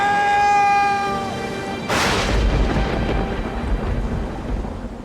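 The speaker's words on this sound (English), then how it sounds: "As night falls, the storm gets worse." A mountain thunderstorm, with a sudden thunder crack breaking into a long rolling rumble over steady rain, loud and close, after a sustained tonal note fades out.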